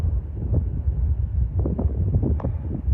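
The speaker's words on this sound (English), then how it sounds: "This is it's windy up here." Steady wind buffets the microphone on an exposed hilltop overlooking lakes in Massachusetts, a continuous low rumble with gusty swells and no other sounds.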